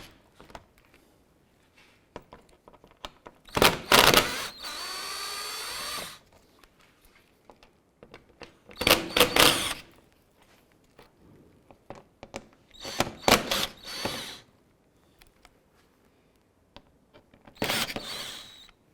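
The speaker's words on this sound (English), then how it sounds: "Underneath the bumper, we're going to go ahead and remove a series of these T25 screws." A power tool removes T25 screws from beneath the bumper of a 2011–2018 Volkswagen Jetta, several loud whirring bursts of a few seconds each, separated by quiet gaps with faint handling clicks.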